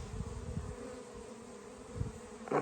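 Honeybees buzz steadily around a beehive in the evening, a continuous close drone with a few louder passes of individual bees near the end.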